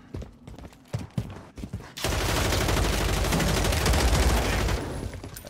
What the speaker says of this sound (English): Shot off the full clip.